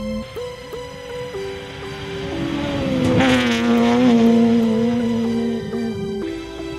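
A Ford Fiesta rally car charges flat out through a gravel stage at a rally in Gauteng, its engine revving hard and rising in pitch as it passes close by, then shifting and fading.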